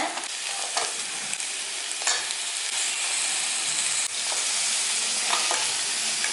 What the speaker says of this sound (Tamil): இப்போது நண்டை சேர்த்துட்டு நல்லா அந்த வெங்காயத்தோட வதக்கி விடுங்க